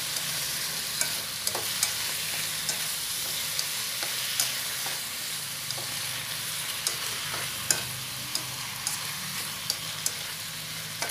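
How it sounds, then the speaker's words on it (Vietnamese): Oyster mushrooms stir-fried in a pan with salt and sugar, a steady loud sizzle running throughout with frequent scraping taps of a utensil stirring against the pan, no voices. "Các bạn xào cho cái phần nấm của mình nó chín hẳn luôn nha các bạn"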